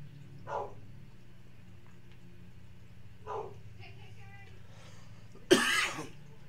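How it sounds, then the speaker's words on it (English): A single sharp cough bursts out near the end after a quiet stretch, preceded by two soft throaty sounds, with a low hum underneath. "Little cough there."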